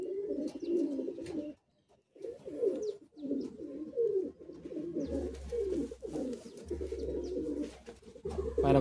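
Madrasi pigeons coo steadily and close by in repeated low, throaty phrases that continue almost without a break, with a brief gap early on and a low hum joining later.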